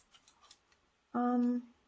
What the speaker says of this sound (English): I'm gonna chop here and cut out the rest of this